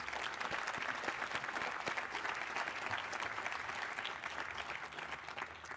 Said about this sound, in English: Can we give her a big, big round of applause?